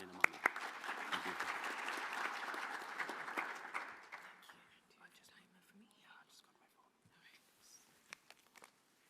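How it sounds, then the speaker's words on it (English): An audience at a national space conference plenary session applauds a speaker, a dense round of clapping that fades after about four seconds into scattered claps and quiet room noise. "please give a round of applause for Ms. Tongwane Namani."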